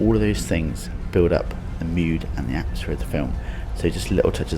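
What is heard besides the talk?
No distinct noise like a dog, phone or traffic.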